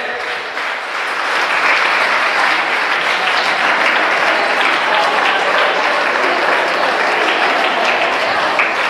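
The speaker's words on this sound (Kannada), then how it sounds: "ಚಪ್ಪಾಳೆ" An audience at a business training session claps together, a loud, dense burst of applause that swells within the first second and carries on evenly for the rest of the stretch.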